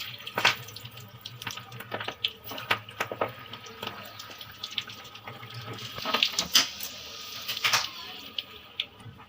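Aloo vadi frying in hot oil gives a steady close sizzle broken by sharp crackling bursts and pops, with no one talking.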